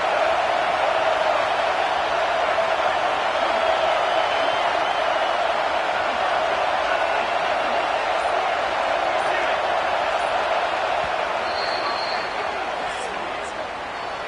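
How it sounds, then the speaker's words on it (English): A stadium crowd at an American football game involving Nebraska keeps up a dense, continuous roar for the full stretch, loud and steady before easing slightly near the end. "This crowd bringing the energy and noise early."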